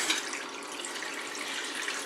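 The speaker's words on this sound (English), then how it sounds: "I'm going to run the tap just for a sec." Water runs steadily from a kitchen tap, a constant close hiss and splash without pauses or voices.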